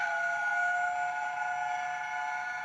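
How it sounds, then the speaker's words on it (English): Hornby A1 Tornado DCC sound model locomotive sounding a long chime whistle, a steady multi-toned steam-style chord held loud and near for nearly three seconds with no voices. "Long chime."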